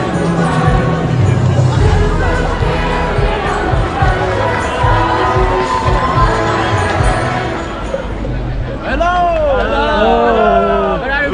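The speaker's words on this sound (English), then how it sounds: "we went through a large crowd of pilgrims and more flags" A large crowd of pilgrims with flags at World Youth Day in Porto, loud close babble of many voices and children shouting, with a few cheers and whistles rising toward the end.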